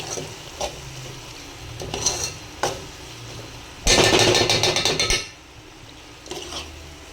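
Spiced misal mixture being stirred in a cooking pot: scattered close clinks of a spoon on the metal rim, then a loud stretch of rapid scraping and stirring lasting over a second, and a few more taps after it.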